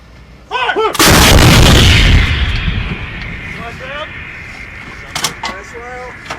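An M777 155mm light towed howitzer fires a single thunderous shot that booms near and loud, then rolls away in a long decaying echo, with shouted commands from the crew before and after.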